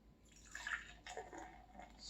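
Southern Tier Harvest seasonal beer poured into a glass, a soft continuous splashing gurgle with rising and falling liquid rushes, close but faint, no talking.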